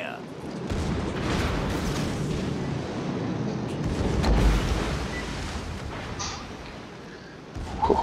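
Warship guns booming in a naval battle game at point blank range against a cruiser, heavy rumbling blasts layered over continuous engine and sea noise, with someone talking excitedly over the gunfire.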